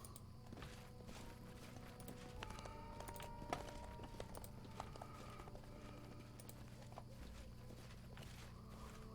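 Horse hooves clip-clop at a steady walking pace in the Pathfinder: Kingmaker video game, moderately loud over a dense, busy game background of ambient sounds and music.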